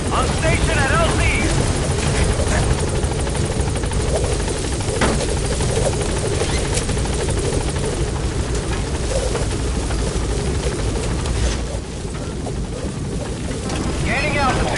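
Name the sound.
helicopter arriving at landing zone in Metal Gear Solid V video game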